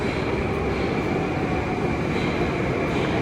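Metro train in a deep underground station in Russia, about 271 feet below ground, producing a loud, continuous broadband rumble and rush that fills the whole stretch without pause.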